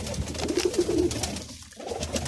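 A teddy pigeon gives a short, soft cooing call near the start, heard nearby over a low background hum.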